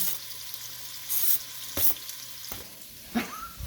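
Hot oil sizzles steadily in a pan, with a few brief scraping and clattering bursts of stirring.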